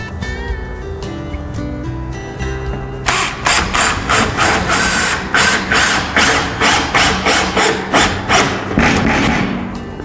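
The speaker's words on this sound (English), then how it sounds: "I like to drive 2 3-inch screws into the stud through the L bracket." A 3-inch screw is driven through an L bracket into a wall stud while a Tilt-Away Murphy wallbed is installed. After a quiet start, a close, loud series of about a dozen rapid rattling, hammering bursts repeats evenly.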